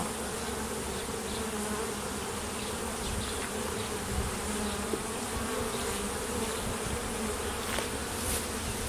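Honey bees hum steadily and densely around an open hive during an inspection, a continuous buzzing swarm with no pauses, close but fairly quiet.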